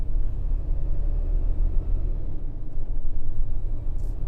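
A Peterbilt 567 semi truck pulling a 2024 Renegade Classic accelerates hard, its engine giving a deep, steady low rumble heard from inside the cab, loud and continuous with no talking.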